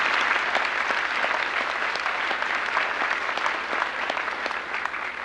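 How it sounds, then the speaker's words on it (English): An audience at a Desert Storm rally in Clark County in 1991 applauds in a sustained, dense burst of many hands clapping together, steady and fairly loud throughout, with no speech over it. "Let's give them a hand."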